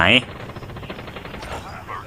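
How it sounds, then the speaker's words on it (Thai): Gunfire in Call of Duty Mobile battle royale opens with a loud burst of shots, then quieter rapid firing and clatter continue through the clip. "มีเสียงปืนข้างนอกแป๊บหนึ่งขอเข้าไปดูก่อน"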